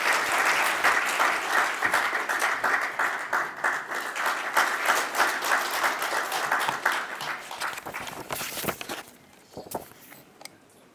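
A forum audience at a policy debate gives a sustained round of applause to welcome a speaker. The clapping is dense and steady for about eight seconds, then thins to a few scattered claps and fades out.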